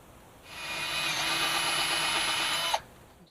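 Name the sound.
drilling holes in cabinet doors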